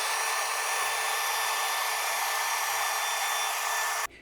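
A power grinder whines steadily and loudly while cleaning rust off the front wheel hub surface of a 2022-present VW Golf R Mk8, running continuously before cutting off abruptly at the end.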